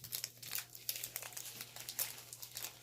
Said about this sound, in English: Wait, you want me to open up the packs for you?